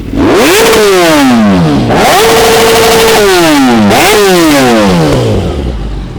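A very expensive high-end motorcycle in Pakistan, priced around 37 lakh, is revved hard three times. Each blip climbs sharply in pitch, holds briefly and drops back. The engine is extremely loud and close and heard alone.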